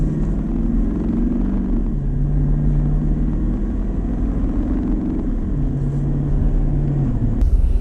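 A 2019 Nissan Titan Pro-4X pickup with a Cummins diesel engine pulls steadily under acceleration, a continuous low, close rumble with a rising engine drone that holds for the whole stretch, with no talking.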